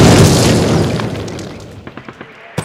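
Explosive charge detonating in Call of Duty, a loud booming blast that rolls off into a long fading rumble, followed by a few small debris pops and a sharp final crack.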